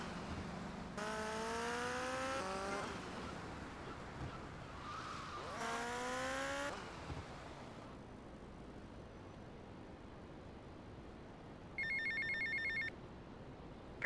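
A payphone rings in the Vice City video game. Two loud, long bursts of warbling electronic ringing come first, then a short high electronic chime later, all over a rumbling backdrop of engine and traffic noise.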